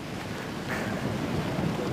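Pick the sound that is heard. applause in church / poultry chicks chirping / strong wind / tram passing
strong wind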